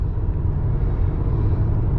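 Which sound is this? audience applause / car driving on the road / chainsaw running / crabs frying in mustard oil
car driving on the road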